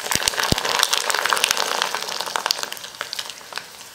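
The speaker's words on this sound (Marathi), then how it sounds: "तेल तापलं आहे, तर पापड घालायचं।" Thin sabudana (tapioca pearl) papad frying in hot oil, a dense, steady crackling sizzle close to the microphone, with scattered louder pops throughout and no speech.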